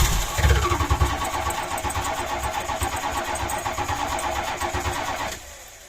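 A car engine fitted with an overhauled Holley carburettor, no choke, in bitter cold, cranks with a brief sputter, then catches and runs at a steady loud idle before cutting out, nearby.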